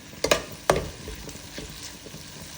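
Shallots, tomatoes and green chillies frying in a pan, with a soft sizzle broken by a few sharp spatula scrapes and stirring clatters near the start, then quieter crackling.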